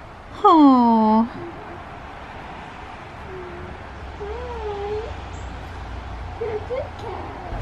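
A cat lets out one loud, close meow lasting under a second, with a rising then falling pitch. Softer, wavering sounds and quiet outdoor ambience follow.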